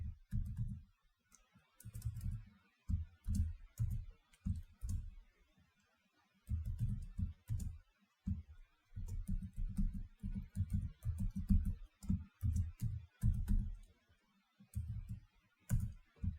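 Bursts of quick, close clicking keystrokes on a computer keyboard while HTML code is typed, coming in uneven runs separated by brief pauses, quiet room, no talking.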